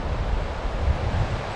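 Strong winter wind buffets the microphone outdoors by a frozen lake on the Gunflint Trail, a continuous loud roar of rumbling noise with no pauses.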